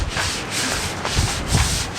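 A hand scrubbing outside corrosion off a sailboat's mizzen mast sheave gives a steady, close abrasive rubbing, with a few heavier strokes pushing through toward the end.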